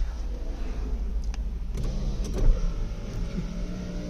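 Rear power windows of a used Hyundai Santro Xing run with a steady low electric motor whine inside the car, rising to a brief louder thump near the end, with no talk.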